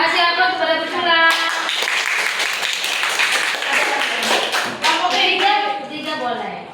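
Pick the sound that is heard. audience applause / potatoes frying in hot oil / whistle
audience applause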